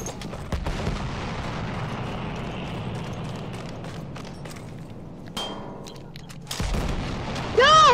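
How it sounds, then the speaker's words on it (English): Anti-aircraft gun turret firing in Battlefield 1, heavy booming gunshots and thuds over continuous battlefield noise, loud and close, ending in a sharp burst. "I'm on an AA gun, baby. Yeah, it's a big turret."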